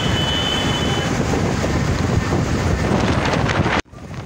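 Gusting air from traffic speeding across the Second Hooghly suspension bridge, a loud, constant wind roar buffeting the microphone, cutting off abruptly near the end.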